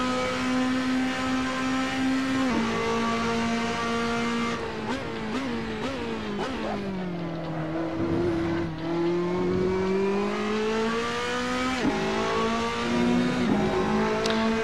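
Ferrari 458 GT2 racing car in Assetto Corsa at the Nürburgring, its engine revving high and climbing through gears with sharp shift drops, a loud continuous whining roar with no voices.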